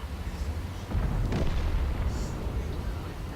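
In a tank video game, a cannon round strikes the side of a T-30's turret and bounces off, a single booming impact about a second in, followed by a rumbling decay.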